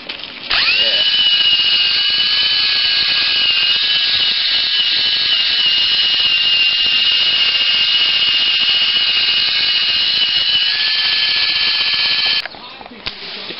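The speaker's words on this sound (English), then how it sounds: "Use my wire brush on my drill." A loud, steady whirring drill spinning a wire brush, cleaning the gasket surfaces on Briggs and Stratton 18hp twin engine heads, running continuously at high speed for many seconds before winding down near the end.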